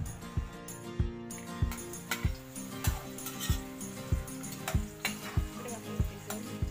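Chopped garlic, onion and spring onion sizzle in a very oily frying pan, a steady bright hiss running throughout, with regular soft knocking pulses beneath it.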